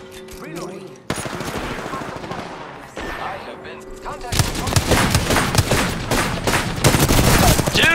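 Dense automatic gunfire from an Apex Legends match, rapid bursts starting sparse and swelling into loud sustained fire in the second half, with a voice talking over the opening.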